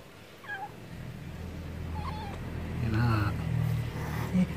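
A stray cat meows several times in short, rising calls, fairly near, over a low background hum while a person talks nearby.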